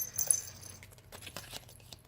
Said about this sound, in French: le bruit que vous entendez, j'ai eu la très bonne idée de mettre des grelots ici